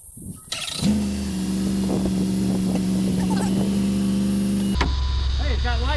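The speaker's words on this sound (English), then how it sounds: "Let's go find a jump box and see if this thing will crank." The engine of a vehicle bought at auction is cranked with a jump box, giving a loud, steady mechanical drone that holds for several seconds before shifting abruptly near the end.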